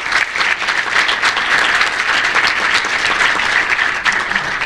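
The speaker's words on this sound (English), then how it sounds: "Let's give them all a nice round of applause." An audience at an entrepreneurial event applauds the break sponsors, dense even clapping that stays loud and continuous throughout with no talk over it.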